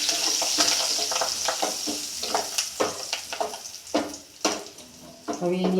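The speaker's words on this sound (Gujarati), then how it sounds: "થોડી હિંગ નાખીશું, હળદર થોડી નાખીશું અને મીઠા લીમડાના પાન નાખીશું." Asafoetida, turmeric and curry leaves crackle and sizzle in hot oil, with a busy spitting hiss and spoon scrapes close by, a few brief sharp pops near the end.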